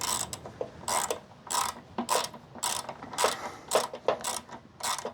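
A ratchet wrench tightens a part while a Honda C200 motorcycle is serviced, a close series of about ten rhythmic clicking ratchet strokes in quick bursts.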